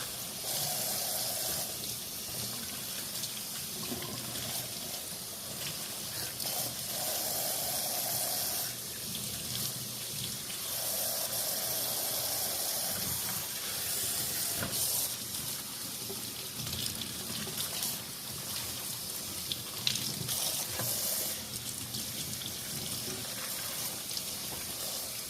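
Beet greens are rinsed under a running kitchen tap, a steady close rush of water into the sink that shifts in tone as the leaves are moved through the stream.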